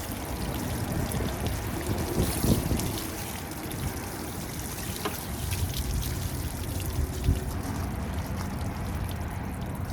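Water flowing out of an RV water heater tank drain, a steady rushing splash close by and moderately loud, continuous throughout.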